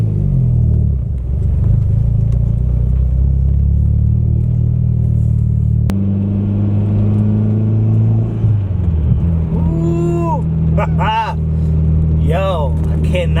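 A Mitsubishi Evo X fitted with a new turbo and single exit exhaust cruises around the block, its engine a steady low rumble throughout with a brief rise in revs, while voices talk over it toward the end.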